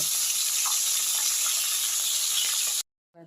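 A fish head sizzles in hot oil, a steady loud crackle and hiss that cuts off abruptly near the end.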